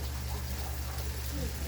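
Bagoong broth is poured into a pot of pinakbet, a steady, close liquid trickle over a low hum that lasts a couple of seconds.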